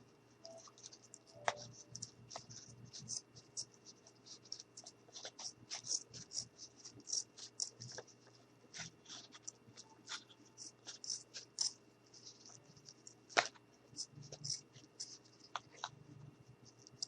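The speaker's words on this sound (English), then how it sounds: "now I'm just going to go ahead and cut off the extra because we don't need it" Scissors snipping off excess craft material, a series of quiet, close clicks and cuts in an irregular rhythm, sometimes clustered, against a soft background hum.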